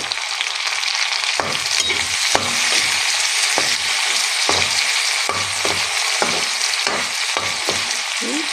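Chopped tomato hits hot oil for a fish curry with zika gourd, giving a loud steady sizzle broken by repeated sharp scrapes and taps of a spatula stirring in the pan.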